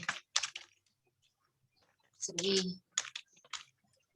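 Typing on a computer keyboard during an online English conversation class, heard as short bursts of quiet clacking keystrokes with pauses between, near and alone, with a brief voice passage in the middle.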